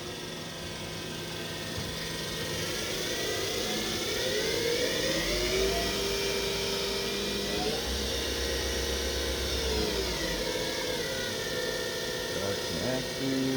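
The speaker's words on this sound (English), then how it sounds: "let's jog the spindle" The spindle of a Hurco VM10i CNC vertical machining center is jogged, a tonal motor whine that climbs and falls in pitch over a steady mechanical hum, fairly close and continuous.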